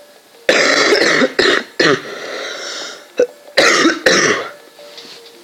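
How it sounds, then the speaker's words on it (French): A person coughs repeatedly in loud, harsh bursts with short gaps and some throat clearing, close to the microphone, with no talking. "Oui, j'ai un peu la toux."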